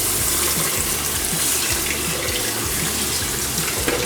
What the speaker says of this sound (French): je vais prendre un récipient et je vais y mettre mon riz et je vais couvrir d'eau